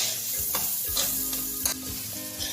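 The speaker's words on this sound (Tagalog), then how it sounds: "Haluin lang maigi hanggang ito ay mag-aromatic." Aromatics sauté in a pan for Ilocano pinakbet, giving a quiet, continuous sizzle with a few soft stirring taps and scrapes and no voices.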